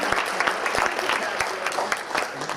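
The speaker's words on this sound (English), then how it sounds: "a big round of applause for Pina De Rosa" Audience applause for a speaker at a Calabasas Chamber event, a dense, steady wash of many hands clapping at close range with no talk over it.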